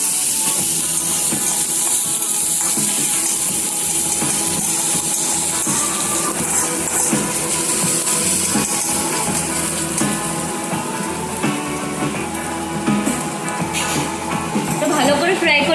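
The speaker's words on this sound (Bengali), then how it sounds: "ভালো করে ফ্রাই করে নিতে হবে।" Grated and chopped ginger and garlic frying in hot oil for veg momo filling, a loud, continuous close sizzle and hiss running throughout, with a voice talking over it.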